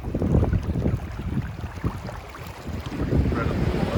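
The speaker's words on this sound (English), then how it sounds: "there's a fair wind blowing" Steady wind gusting on a beach in Lanzarote, with broad rumbling buffeting across the microphone and waves washing in the background, loud and continuous with no talking.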